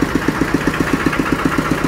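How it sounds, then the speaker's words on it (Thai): A Kubota diesel engine on a farm truck idles close by, a steady low chugging with regular pulses about eight times a second, running alone without voices. "ใช้เครื่องยนต์คูโบต้าครับ"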